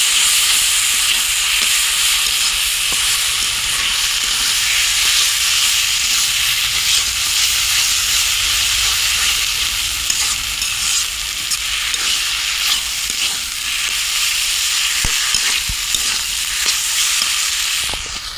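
Drumstick (sajna) leaves fry in a pan with onion and chilli while being stirred, a continuous loud sizzle broken by scraping, clicking stirs throughout.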